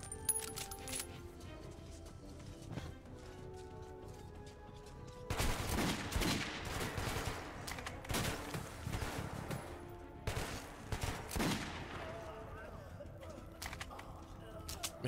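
Bursts of gunfire from the video game Metro 2033 crackle in rapid clusters, loud mid-clip and again later, with a player talking over parts of the play.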